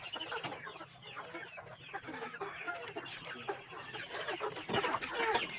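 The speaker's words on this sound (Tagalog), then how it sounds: "makikita nyo ang mga alaga kong manok sa aking bakuran" Several backyard chickens cluck and chatter nearby in a steady, overlapping flock, with a faint low hum underneath.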